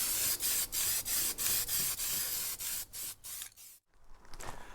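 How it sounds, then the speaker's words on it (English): Short hissing bursts from a rattle can of spray paint aimed at metal brackets, about ten quick repeated sprays close by, then a brief pause and fainter sputtering at the end. "Gotta love the rattle can."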